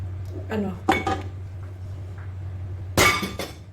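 Metal pots and utensils clank and clatter in a home kitchen as broth is moved from one pot into a cooking pot for sotanghon noodles, with two distinct bursts of knocking over a steady low hum.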